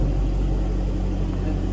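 An Overfinch car with a switchable exhaust runs at a steady idle, giving a continuous low rumble with no one speaking and no revs.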